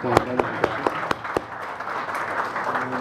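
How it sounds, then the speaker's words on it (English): Audience applause at a business event announcing a new DHL boss for Equatorial Africa, a round of scattered claps that comes in sharp separate hits at first, then settles into a steadier patter heard close. "let's do a round of applause"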